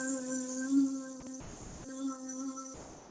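A human voice imitates a buzzing bee during kids' yoga breathing: two long, steady humming buzzes, close and fairly soft, separated by a brief breathy inhale.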